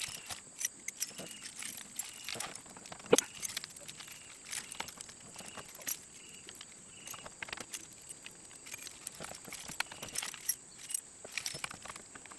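Old GM ignition keys from a Chevrolet C10 Squarebody pickup jangle and click softly, one after another, as they are tried in a worn lock cylinder. The metallic rattling is faint and close, with no talking.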